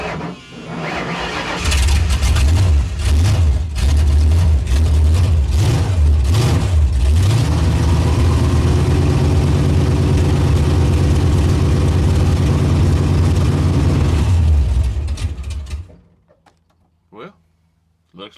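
A car engine in a garage cranks several times in uneven churning bursts, catches and settles into a loud steady idle before being shut off, with talk over parts of it.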